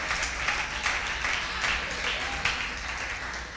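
Church congregation applauding, a steady moderate wash of many hands clapping throughout with small swells and no talk over it.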